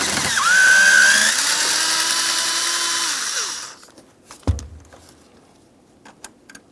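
A power drill or driver spins out a 10mm bolt on the parking brake release handle of a 2000-2006 Chevrolet Tahoe, a loud whirring burst for about three seconds that winds down, followed by a clunk and faint clicks.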